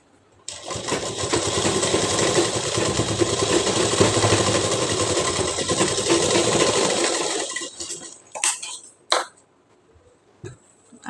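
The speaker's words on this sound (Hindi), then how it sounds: "ये सिलने के बाद अब हम इसको यहाँ पे आपस में इस तरीके से सिल देते हैं।" A sewing machine stitching a trouser seam runs in one continuous loud whirring burst for about seven seconds, then stops, followed by a few short clicks and handling knocks.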